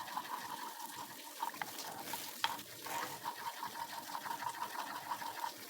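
A thickening starch and milk dessert is stirred in a pot, giving a soft, steady scraping and swishing with faint rhythmic clicks, low and close throughout.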